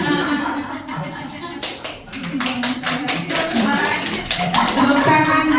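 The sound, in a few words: applause, clapping hands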